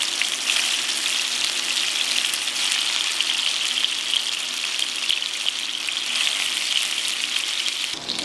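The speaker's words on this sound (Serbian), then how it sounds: "valjuške spuštam i pržim ih 2 do 3 minuta sa obe strane" Potato and carrot dumplings with minced meat fry in hot oil in a pan, giving a loud, steady crackling sizzle that runs unbroken throughout with no voices.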